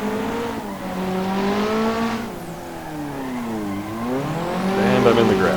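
In the Assetto Corsa video game, a drifting car's engine revs and swoops up and down continuously, with tires squealing through the slide and the engine climbing louder toward the end.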